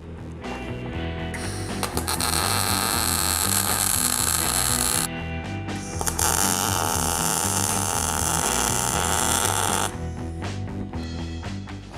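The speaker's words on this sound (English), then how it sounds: "So we're gonna weld this." Steering U-joint on a Suzuki Samurai being welded, a loud steady crackling buzz that runs in two long bursts with a short break between, close and alone.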